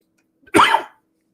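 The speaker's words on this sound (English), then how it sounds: "The coughing persists." One short, sharp cough, close by, surrounded by silence.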